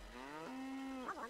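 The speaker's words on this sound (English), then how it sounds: "That's why it mooed so loud." A cow in the Roblox Islands game lets out one drawn-out, steady moo, rising slightly and then breaking off, heard up close but fairly quiet against faint background hum.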